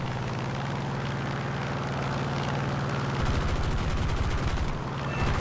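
Rapid bursts of aircraft machine-gun fire from a P-47D-28 Thunderbolt fighter in War Thunder, a dense rattling stream over steady propeller engine drone, growing harsher partway through.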